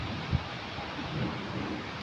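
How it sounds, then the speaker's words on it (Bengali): Heavy rain pours in a steady, dense hiss, with a faint low thump near the start and no voices. "দেখছেন কি অবস্থা বৃষ্টির"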